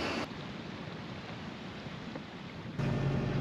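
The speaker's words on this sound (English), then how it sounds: "We just took down the sails and started the engine" A sailboat motors on calm open water with its sails down, a steady low engine drone and broadband rush holding evenly, then growing louder and rougher in the final moments.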